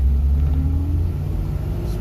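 A Nash car engine runs in traffic after an O-ring repair, giving a steady, loud low rumble with a faint rising tone as it pulls under load, with no other sounds over it.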